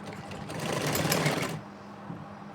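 Sewing machine running a quick stitching burst along the back neck of a kameez, a close rapid whirring that lasts about a second and a half and then cuts to quiet room tone.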